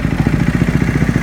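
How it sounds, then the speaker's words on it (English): A KTM RC390 motorcycle with an Akrapovic exhaust idles close by, a loud, deep, lumpy engine rumble pulsing in quick regular beats. "just check out this exhaust"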